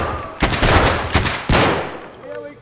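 Loud shotgun blasts in the Escape from Tarkov video game, two heavy booming shots about a second apart, each followed by a long echoing tail.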